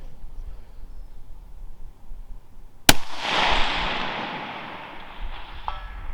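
A single loud, sharp crack from a Savage Axis II Precision .223 bolt action rifle with a muzzle brake, followed by a bright, ringing decay that fades over a few seconds in otherwise quiet surroundings.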